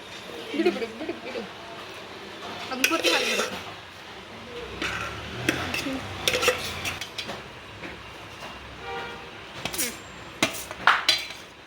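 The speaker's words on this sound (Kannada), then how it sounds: "ಸೊ ಇವಾಗ ರೈಸ್ ಹಾಕಿ ಮಿಕ್ಸ್ ಮಾಡ್ತಾ ಇದ್ದೀವಿ." Rice being stirred into ready curry in a metal pot at home, with scraping and clinking of a spoon against the pot in bursts, close by, under people chatting.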